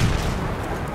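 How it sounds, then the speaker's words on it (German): A grenade explosion in Battlefield 1 on the River Somme map, a heavy low boom at the start followed by a rumbling, noisy decay, loud and close, lasting about a second. "Granate ist raus, Köpfe runter!"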